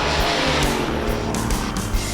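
A Chevrolet Chevelle SS 396/454 muscle car accelerates hard in a straight line, a loud, close, roaring engine with a throaty rumble and a hint of tire noise throughout.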